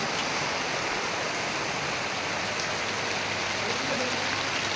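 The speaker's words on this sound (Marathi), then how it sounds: "संततधार पाऊस चालू आहे." Continuous heavy rain falls near a tent in a monsoon downpour, a dense, steady, close roar of drops on surfaces with no breaks and no voices.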